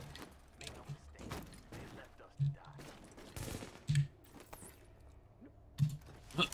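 Scattered gunfire from Tom Clancy's The Division, a few sharp shots and bursts spaced out at moderate distance, with players talking over the fight.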